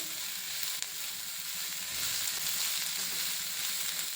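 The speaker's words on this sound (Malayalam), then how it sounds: "അതും കൂടെ ചേർത്ത് 2-3 മിനിറ്റ് വഴറ്റിയെടുക്കാം." Long-sliced onion sizzling in a hot pan while being sautéed for a Kerala chammanthi, an even close crackling hiss with a brief stirring clink.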